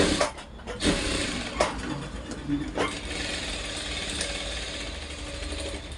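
A sewing machine stitching a blouse runs in a steady mechanical whir, with a few sharp knocks at the start before settling into a continuous rapid hum.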